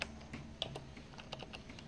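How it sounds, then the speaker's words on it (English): Computer keyboard, just repaired after a water spill, being typed on in quiet, uneven clusters of crisp key clicks heard up close with no one talking. "I'm typing, you can hear the keys"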